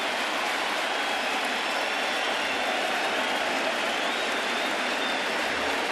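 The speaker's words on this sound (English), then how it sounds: "he's going to get quite the ovation from this sellout crowd" Sellout baseball stadium crowd giving a starting pitcher an ovation, a dense, steady roar of cheering and applause that fills the whole stretch at high volume with no break.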